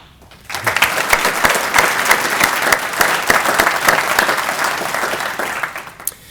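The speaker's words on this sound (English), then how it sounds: "I'd like to also please give Mr. Wagner another round of applause." Loud audience applause at a mayor's council breakfast for Mr. Wagner breaks out abruptly after a brief hush, then holds as a thick, steady roar of clapping before tapering off near the end.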